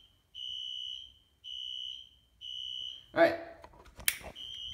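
A Wheelock Exceeder fire alarm horn sounds in code 3 temporal pattern, three loud steady beeps repeating, followed by a brief voice and clatter before the horn resumes.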